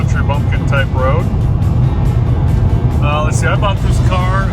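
A 1993 SVT Cobra rolls along a loud country road, with a steady, dense tire and engine roar filling the cabin throughout while someone talks over it.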